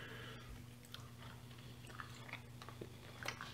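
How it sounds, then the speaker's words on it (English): Someone chews a tough piece of reindeer meat, making soft, close, irregular wet crunching and mastication sounds over a steady low hum, with no talking. "That is tough to chew."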